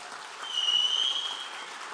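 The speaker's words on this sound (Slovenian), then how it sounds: "Aplavz učiteljem." Applause for teachers at a school graduation ball in Ljubljana, a steady wash of clapping at moderate distance with a faint high tone running through it.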